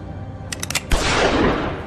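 A single sharp gunshot rings out loud and close in a video game, preceded by a few quick metallic clicks and followed by a long reverberant decay.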